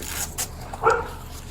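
A dog shut in a kennel inside a house gives a short bark that breaks into a whimper, close and moderately loud over a low background hum.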